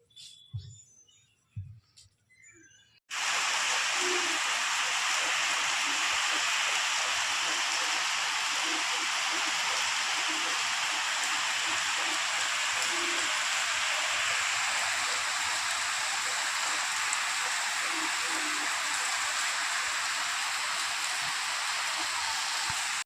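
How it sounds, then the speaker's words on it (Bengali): After a few seconds of quieter, scattered sounds, heavy rain bursts in abruptly. It becomes a dense, loud, unbroken roar of pouring water on surfaces that fills the rest of the scene. "তো দেখলে কেমন বৃষ্টি শুরু হয়ে গেলো জোরে"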